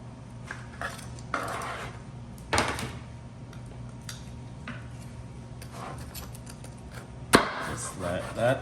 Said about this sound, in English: so now I'm going to chop one for you